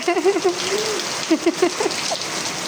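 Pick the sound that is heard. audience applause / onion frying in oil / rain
rain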